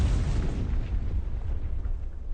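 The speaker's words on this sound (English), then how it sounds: "Call fire, barrage, rocket artillery, fire for effect." A rocket artillery barrage in the World War II shooter Enlisted hits as a heavy, continuous rumble of overlapping explosions, loud and deep, fading gradually toward the end.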